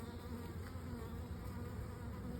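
Dense, continuous buzzing of many honeybees swarming close by at an open hive, a steady droning hum with no voices.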